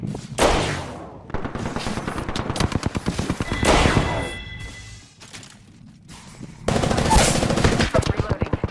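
Automatic weapons fire in the shooter game Apex Legends or Division 2: loud, rapid bursts that come in several volleys with short gaps between them.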